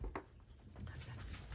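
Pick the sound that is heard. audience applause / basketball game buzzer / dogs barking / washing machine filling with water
dogs barking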